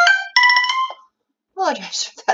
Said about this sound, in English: That was my phone. Forgot to turn the volume off.